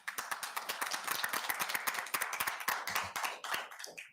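Applause at a Halton Hills council meeting, a quick run of sharp hand claps from a small group in the chamber, steady and fairly close, tapering off near the end.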